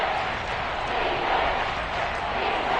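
Seahawks home stadium crowd at a football game, with the red-zone crowd roaring loud and steady throughout, a dense, continuous wash of voices with no breaks.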